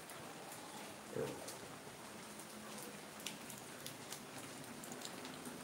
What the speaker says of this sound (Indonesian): Cuman hujannya nggak gede sih, nggak gede, cuman gerimis ya, gerimis.